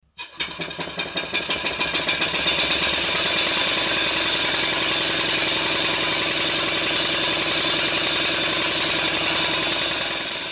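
A Stuart 5A model steam engine in a workshop runs at high speed. It gives a loud, rapid, evenly pulsing mechanical clatter that builds within the first second and then holds steady, with no talking.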